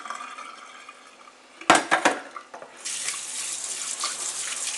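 Tap water rinses soaked cashews, with a few sharp clattering splashes followed by a steady hissing stream from a faucet into a sink or bowl.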